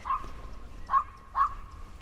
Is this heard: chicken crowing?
no